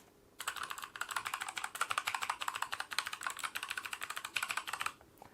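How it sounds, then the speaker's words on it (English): Rapid, clicky mechanical keyboard typing on an MSI Vigor GK50 Elite with Kailh Box White switches, steady and close, with sharp individual keystrokes in a continuous burst and no voices. "It is a very noisy keyboard."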